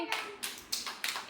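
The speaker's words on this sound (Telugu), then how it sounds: "క్లాప్స్ కొట్టండి" Children at an anganwadi centre clap their hands during a handkerchief game, several short bursts of claps in an uneven rhythm, close by and fairly quiet.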